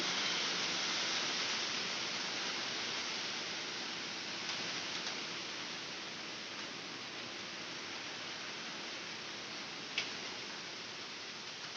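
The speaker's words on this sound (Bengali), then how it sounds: "একটুখানি বৃষ্টি হচ্ছে ঝড়ো হাওয়া দিচ্ছে" Light rain and gusty wind at night during Cyclone Remal, a steady, fairly faint broadband hiss with little change and a single brief tick near the end.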